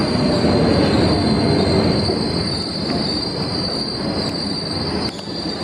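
Commuter train at Juanda railway station in Jakarta, a steady loud roar of rolling carriages with a persistent high wheel squeal running throughout, close by.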